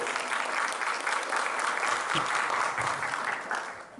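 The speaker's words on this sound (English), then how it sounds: "let's give them a round of applause" Audience applause at a Guru Poornima gathering in Auckland, New Zealand, a dense, loud, continuous round of clapping from a crowd that holds steady and then tapers slightly at the end.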